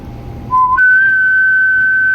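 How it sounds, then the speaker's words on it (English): A bent drinking straw that doubles as a whistle gives a short low tone, then jumps to a loud, steady, piercing higher whistle held for over a second, blown close up. "Shit is out here doubling as a straw and a whistle."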